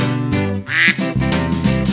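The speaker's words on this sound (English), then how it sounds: "Mother duck said quack, quack, quack, quack" A duck quacks in a children's nursery song, several loud, close, nasal quacks in a bouncy rhythm set against music.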